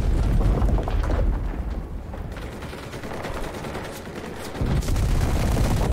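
Dense, continuous gunfire in the World War II shooter game Enlisted, with overlapping bursts from submachine guns and other weapons forming a loud, sustained rattle with booms, no talk heard.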